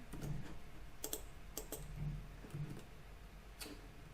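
Keys on a computer keyboard click in scattered, soft taps, a few isolated strokes spaced out over a faint background hum.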